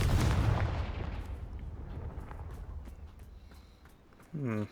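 A Confringo fire spell blasts in Hogwarts Legacy, a loud booming burst that rumbles and fades over several seconds, followed by a short voice at the end.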